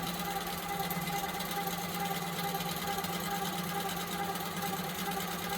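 A longarm quilting machine stitches in regulation mode, a steady, even mechanical whir and hum running continuously and close, with no talk.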